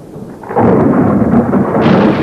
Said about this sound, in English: Lightning always strikes twice.